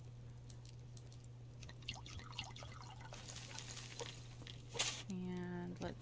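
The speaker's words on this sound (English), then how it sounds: "I don't have enough canteens to water everything completely, so I give them each 2." Canteens pouring water onto tomato plants in the survival game Subsistence, with soft drips and trickles under steady background hum, and a brief louder splash near the end.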